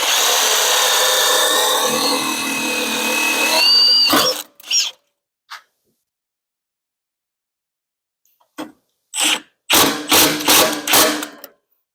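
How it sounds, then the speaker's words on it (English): A power drill bores a hole for a motor controller mount, a loud steady whine for about four seconds, followed after a quiet gap by a series of short clattering tool bursts and handling knocks. "Now when we drill the second hole, it's very important to pull these wires out of the way."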